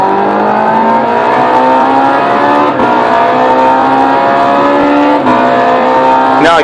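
Racing video game car engine holding a loud, steady high-pitched drone with harmonic bands, shifting pitch slightly with brief dips, continuous and close throughout.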